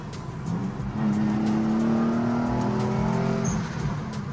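A twin-turbo Nissan 350Z engine revs up and accelerates, its tone climbing steadily and holding loud before easing off, heard from inside or close by.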